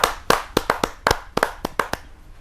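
An audience at a Hindi kavi sammelan claps to welcome a poet onstage, a dozen or so sharp, close handclaps in an uneven burst, with no talk.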